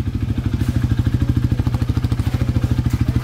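A motorcycle with an oily, smoky exhaust idles up close with a steady, rapid, throbbing exhaust putter, loud and continuous with no voices.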